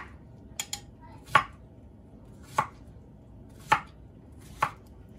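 Garlic cloves are crushed for a chicken-rice dipping sauce: a few sharp, close knocks on a board, about four main blows spaced roughly a second apart with lighter taps before, clear and alone.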